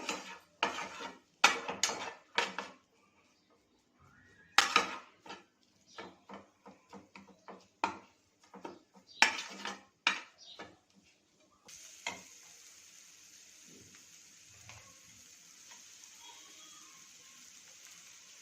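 Masala for masala pav frying in a pan over a low flame, with a busy run of clinks and scrapes of a spoon against metal, then a quieter, steady soft sizzle alone.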